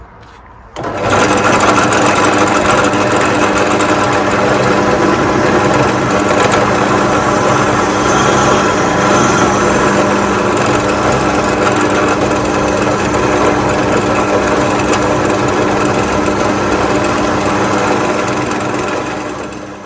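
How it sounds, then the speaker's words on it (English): A wire wheel mounted on a drill press strips paint from parts of a barn-find Kawasaki Z550GT motorcycle, starting abruptly and then whirring loudly and steadily as a continuous close grinding whine. "clean up the small bits I missed with a wire wheel mounted on the drill press"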